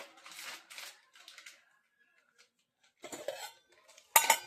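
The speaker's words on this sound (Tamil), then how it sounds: "இப்போ அதுக்கு தேவையான திங்ஸ் முதல்ல இதை கட் பண்ணிக்கோங்க" Ingredients for masala chips are chopped in short bursts of knife-on-board tapping and scraping. Brief quiet gaps separate the bursts, and a sharp clatter comes at the end.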